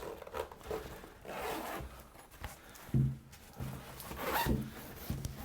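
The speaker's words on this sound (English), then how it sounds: "we start to zipper it up as we go" A zipper on a resin 3D printer enclosure is pulled in several short, scratchy runs close to the microphone, with rustling in between.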